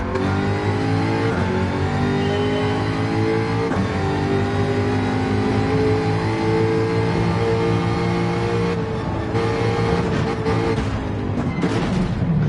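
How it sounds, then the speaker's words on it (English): A Jaguar race car engine in Gran Turismo 7 revs loudly and continuously on the Dragon Trail circuit, its droning whine rising and falling with gear changes throughout. "I think we need to rev out the Jaguar."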